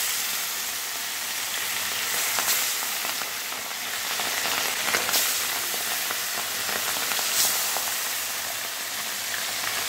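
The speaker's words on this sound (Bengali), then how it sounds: "আর কিছুটা মাছ ভাজা হয়েছে, আর কিছুটা বাকি আছে" Fish sizzling steadily in a pan of hot oil, a continuous close crackle and hiss with occasional sharper pops, no talking.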